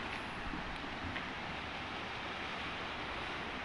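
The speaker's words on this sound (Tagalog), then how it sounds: "May habagat kasi, kaya ganyan yung alon niya." Sea waves churned up by the southwest monsoon along the shore at Natipuan, Nasugbu, Batangas make a steady, rushing roar that fills the whole stretch with no break and no voices.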